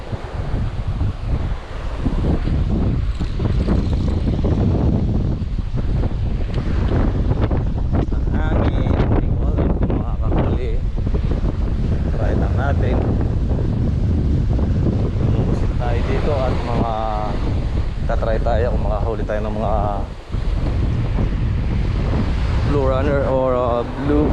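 Strong wind and rain buffet the microphone continuously over open sea on a fishing trip, a loud steady roar with gusts, while someone talks over it.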